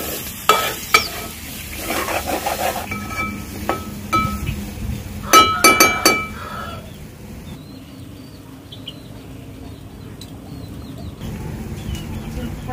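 A spoon stirs spiced curry in a pan, sizzling with scraping and clinking against the metal in bursts, then settles into a quieter simmer with occasional faint ticks.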